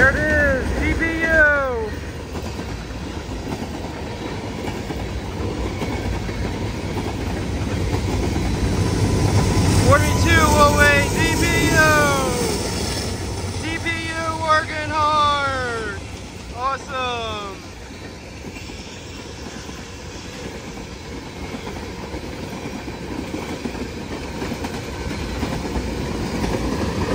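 A freight train with a DPU locomotive rumbles past at length, with steady rail noise and squealing wheel screeches in the middle, while excited voices shout over it.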